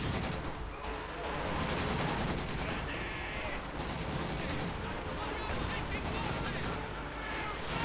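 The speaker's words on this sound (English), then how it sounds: "So we got rockets flying all across." Rockets and gunfire from the video game Company of Heroes 2 make a dense, continuous battle din of rapid shots and explosions, with a commentator talking over it throughout.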